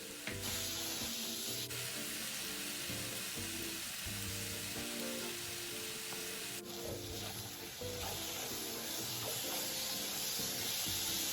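Taro-and-meatball mixture seasoned with dark soy sauce sizzles steadily while being stir-fried in a pan, a continuous hiss running under background music.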